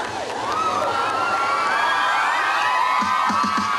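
A crowd at a Honda invitation event cheers and whoops loudly and continuously, with scattered shouts rising over a dense, steady roar that swells near the end.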